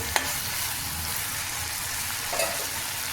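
Cucumber and tomato frying in a pan for Telugu dosakaya tomato pachadi, a steady close sizzle with brief scraping stirs near the start and again near the end.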